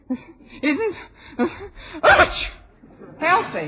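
Someone speaks, then a single sharp sneeze bursts out mid-conversation before talking resumes.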